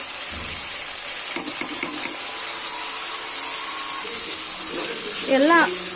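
Chili powder, garam masala, coriander powder, fennel and salt sizzle in a pan for paneer masala gravy, giving a steady, even hiss throughout, with a brief voice speaking near the end.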